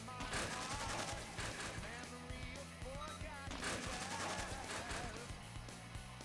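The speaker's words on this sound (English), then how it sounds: "Morrow's going to jump in front of a bunch of gunshots here" Gunfire bursts crackle in rapid volleys during a turn-based battle in the video game Blue Dragon, layered over busy game music and effects, with some speech mixed in.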